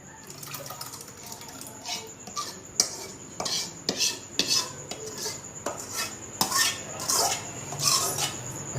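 Utensils clink and scrape against a pot while panchratna dal is stirred, a series of light metallic taps and clatters close up, with faint voices in the background.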